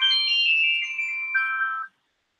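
A phone ringtone plays a loud, bright electronic melody up close for about two seconds, stepping down in pitch near the end before it cuts off into silence.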